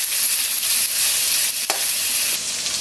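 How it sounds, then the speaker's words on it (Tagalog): Pork, garlic and onion frying in a pan, a loud steady close sizzle with a brief stir or scrape partway through. "Pabayaan muna natin matoast ng konti yung ating pork at yung ating bawang sibuyas"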